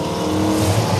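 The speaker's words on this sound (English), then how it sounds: "'69 Z28. Light them up." A 1969 Camaro Z28 V8 engine at a muscle car show revs briefly, a loud close roar that swells slightly over about a second with no voices over it.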